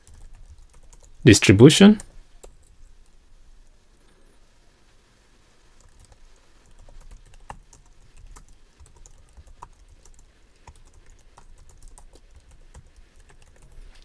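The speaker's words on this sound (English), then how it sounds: "I'm going to just type revenue" A computer keyboard is used for typing into an Excel spreadsheet, giving faint, sparse key taps after a single brief spoken word, in a quiet room.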